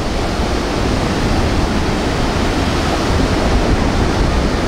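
Ocean surf at a Florida beach during a truck meet gives a steady, loud rush of breaking water with no pauses.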